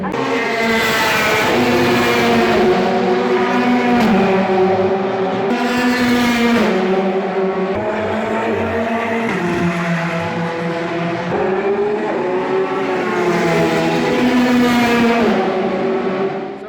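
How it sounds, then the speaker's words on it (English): Loud, high-revving race car engines roar continuously at Le Mans, with pitch rising and falling as cars pass by on the track one after another. "And more importantly, hear the cars."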